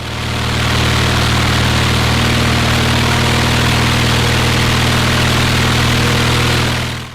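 A propeller aircraft engine holds steady at 2400 RPM cruise during a propeller balancing and vibration test, with a loud, continuous droning hum that stays constant throughout and has no talking over it.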